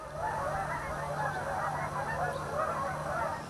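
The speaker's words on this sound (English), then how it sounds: "You can hear the geese maybe." A flock of geese honks continuously at a distance, a dense, overlapping chorus of calls with no talking.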